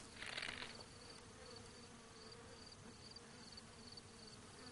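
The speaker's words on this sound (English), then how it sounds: "Could I kill the wasps?" Swarm of wasps droning steadily in Zelda: Breath of the Wild, a continuous low buzz with a brief louder burst near the start.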